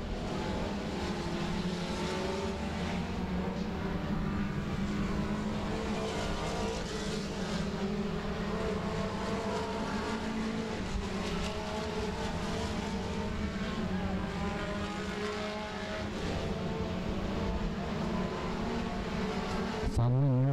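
Race cars roaring down the back straightaway at Monarch Motor Speedway, a dense continuous engine drone with layered tones and no voices, steady and moderately distant throughout.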